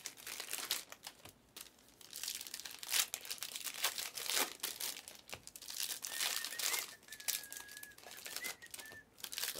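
Crinkly foil tearing and rustling as a Panini Select trading card hobby pack is ripped open, a run of sharp crackles and rips, close and fairly quiet, with a faint whistle-like tone partway through.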